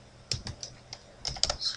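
Close, quiet keystrokes tap out an IP address on a computer keyboard, a few separate clicks followed by a faster cluster of taps, with no one speaking.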